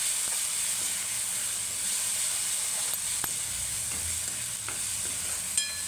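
Spice masala with red chilli powder and turmeric fries in a pan, a continuous soft hiss and sizzle with occasional faint scrapes and clicks from stirring, and no talking.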